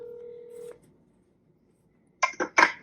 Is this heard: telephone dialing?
yes